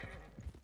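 A horse in Red Dead Redemption 2 clip-clops and gives a faint whinny, hooves thudding softly amid low rumble while a voice is briefly present.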